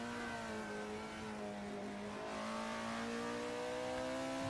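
A Mercedes race car in a DTM classic racing video game holds a steady, droning engine note that climbs gradually in pitch as it accelerates, loud and continuous with no talking.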